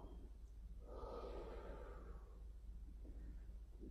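One long, audible breath during a Pilates mat exercise, a breathy exhale in the middle of the stretch, quiet and close against a low room hum, with no speech.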